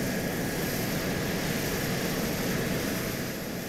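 Steady jet engine roar of a Harrier aircraft in a military combat video game, a continuous broad whine and rumble at constant level with no talk over it.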